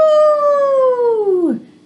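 One long wolf howl in a children's read-aloud story, a clear loud tone held for over a second before dropping off at the end, voiced by a person imitating a wolf.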